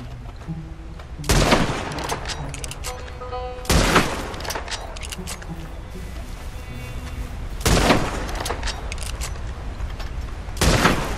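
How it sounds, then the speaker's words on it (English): Rifle shots fired while hunting in Red Dead Redemption 2: four loud, sharp single blasts spaced a few seconds apart, each with a short decaying tail over a low, steady outdoor ambience. "Shouldn't you shoot it now before it runs away?"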